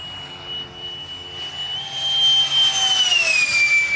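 A JAS-39 Gripen jet aircraft passes on its first flight of 2009, a broad roaring rush that swells louder toward the end, with a whining tone sliding downward as it goes by.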